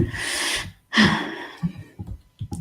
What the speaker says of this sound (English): that cough that I did, and I can feel it